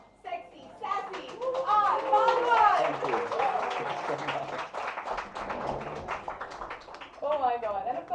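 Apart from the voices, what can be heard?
audience applause welcoming R Madhavan on stage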